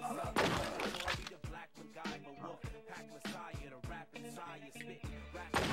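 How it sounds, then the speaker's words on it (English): Gunfire in the True Crime: Streets of LA video game, a quick run of sharp cracks and thuds punching through walls, with crashing and breaking impacts mixed in, fairly faint and busy from start to finish. "Yes, you can shoot through walls now."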